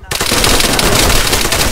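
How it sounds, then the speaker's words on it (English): Rapid burst of gunfire in a video game shootout, a dense continuous rattle of shots starting abruptly, loud and close, with a voice faintly underneath. "Bro, he shot!"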